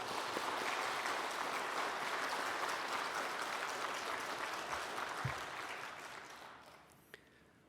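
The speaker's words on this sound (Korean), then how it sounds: "우리 찬양대를 위해서 격려의 박수 한번 하겠습니다." A church congregation claps for a joint choir on Christmas Sunday, a soft, steady patter of many hands that holds for several seconds, then thins and fades out with a couple of stray claps.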